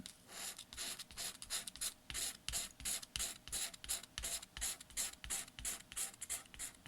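Scratch-off FDJ Vegas lottery tickets being scraped in quick repeated rasping strokes, a steady rhythmic scratching close up with no talk.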